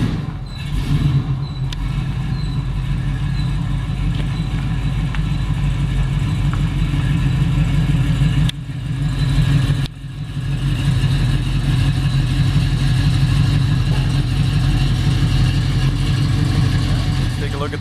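A 1956 Chevy 210 with a 502 big block V8 idles with a steady, deep rumble throughout, briefly dipping around the middle before settling back into the same loud, constant drone.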